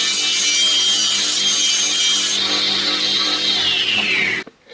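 A saw blade rips a thin 9 mm wooden strip for a woodturned wave bowl: a loud, steady, hissing whine of cutting that holds throughout, then the pitch slides down as the blade winds off and stops abruptly just before the end.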